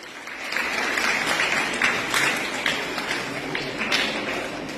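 Crowd applause at a school admission-day award ceremony, steady dense clapping from a large audience that carries on for the whole stretch with no pause.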